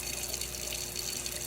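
Warm water runs from a kitchen tap in a steady, soft hiss, unbroken and close, fairly quiet, with no voices.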